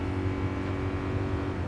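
A Honda Fit engine held at wide open throttle in GT Sport at Autopolis, a steady loud droning buzz with no break.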